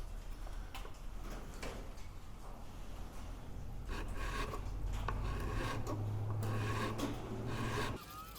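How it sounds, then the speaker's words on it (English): A file rasps against the wooden stock of an M1903 Springfield rifle in a series of repeated, rhythmic scraping strokes, close and fairly quiet, continuing steadily through the clip. "If we file in, it tends to push it towards the wood and sand the chunks off."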